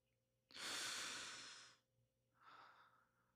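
One deep breath sounds close and clear, a long airy inhale followed by a softer, shorter exhale in a quiet room.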